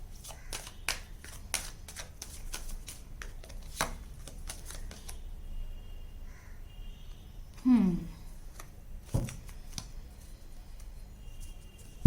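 Tarot cards being shuffled and drawn, heard as a rapid series of close, crisp card flicks and taps. These are followed by a pause, a short vocal sound and a few more soft card sounds.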